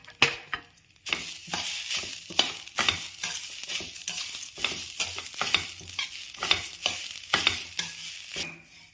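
Dry coconut roasting in a pan for poppy-seed payasa, with repeated scraping stir strokes over a steady close dry crackle, loud and continuous for the whole stretch.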